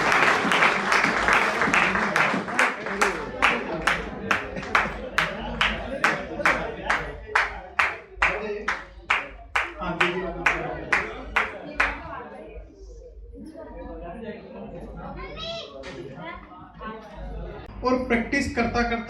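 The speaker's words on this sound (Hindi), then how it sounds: "पहली बार जो आए एक बार ताली बजाइए।" A seminar audience claps in a steady rhythmic beat, about twenty sharp unison claps in a row, then a looser burst of applause under a speaker's voice.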